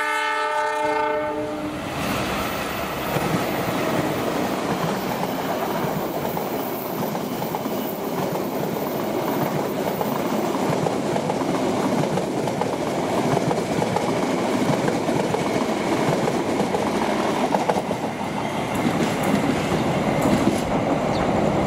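An Indonesian passenger train passes close by at Bekasi Timur, opening with horn blasts and then a loud, sustained roar of wheels and rattling cars that continues to the end, with no voices.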